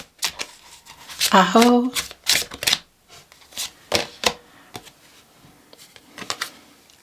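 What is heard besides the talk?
tarot cards being shuffled and drawn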